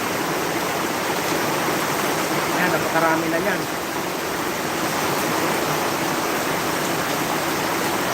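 Heavy rain pours in a steady, loud, unbroken hiss, with a person briefly speaking over the downpour.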